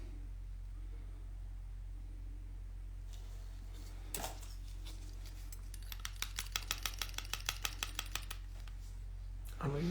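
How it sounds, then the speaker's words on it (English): A bottle of nail polish being stirred: a quick run of small, evenly spaced clicking and rattling taps near the end, faint and close against a quiet background. "Nope, it just needs a quick stir."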